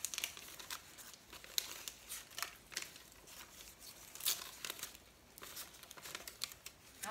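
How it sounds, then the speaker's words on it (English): Paper backing being peeled off a fabric appliqué, close and quiet, a steady crinkling and tearing rustle with small irregular crackles and no talking. "So here we're gonna peel off the backing."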